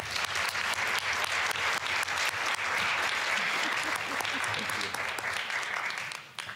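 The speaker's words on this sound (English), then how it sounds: "please join me in one more round of applause for them" At a South Brunswick Board of Education meeting, an audience applauds commended students with sustained, dense clapping at close range, with faint crowd murmur underneath.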